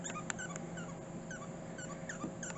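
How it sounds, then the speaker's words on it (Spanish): A dog at a crowded state park campground whimpers and gives short yips, fairly faint over a steady broadband background hum. "cuando la perra empieza a ladrar"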